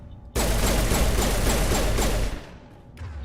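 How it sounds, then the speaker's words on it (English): Sustained burst of video game gunfire, fired into an enemy's crotch in a murder mystery game, rattling loud and dense for about two seconds before cutting off, with a faint shot afterward. "You notice I'm shooting him in the crotch?"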